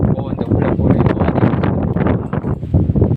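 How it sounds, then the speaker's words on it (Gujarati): Strong storm wind gusting across an open village area where dust is being whipped up, a loud, continuous broadband rush with surging gusts and heavy buffeting against the microphone throughout. "અત્યારે પવનનો અવાજ એટલો આવશે હવે વ્લોગમાં"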